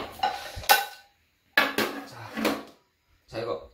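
Bowls and dishes clatter as they are set down on a table during a family pizza meal in a countryside home, several short knocks in two bursts, close and fairly loud, with people talking over them.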